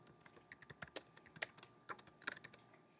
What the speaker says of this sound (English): I can type in the activity